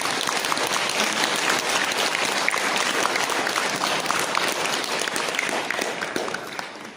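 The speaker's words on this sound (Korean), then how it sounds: "박수 한번 치시죠" Audience applause at a Buddhist lecture, dense steady clapping from a sizable crowd lasting throughout, close and full, tapering slightly at the end, with no talking over it.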